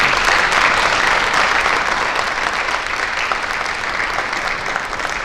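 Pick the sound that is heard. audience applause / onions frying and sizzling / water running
audience applause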